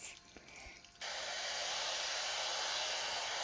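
In the Pet World video game, a hair dryer dries a pet's hair, kicking in after a second of quiet into a loud, steady, continuous blowing hiss that runs to the end.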